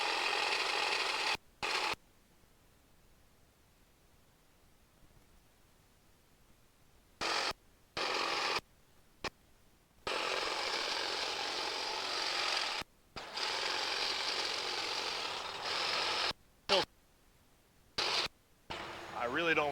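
Dewalt 20V MAX cordless hedge trimmer cutting through overgrown bushes, its motor buzzing in several separate bursts of a few seconds each, broken by short pauses, fairly close.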